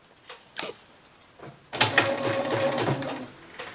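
A sewing machine stitches smocking rows with elastic thread: a few faint mechanical taps, then a close, steady whirring run of about a second and a half before it stops.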